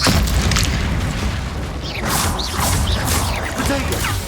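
In the Hogwarts Legacy video game, a Confringo blasting spell erupts in a dense, rumbling explosion with whooshing debris and clattering impacts. It sounds loud, continuous and close, with short swooping tones threaded through the blast.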